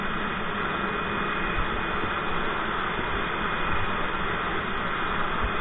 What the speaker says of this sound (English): I'll just let the nitrogen come out through my gauges just to go a little bit quicker